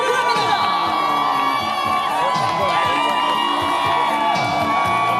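A crowd at a kt Wiz versus Lotte baseball game cheers and shouts during a card magic show, loud whoops and excited voices with children's shrieks and some clapping, continuous throughout.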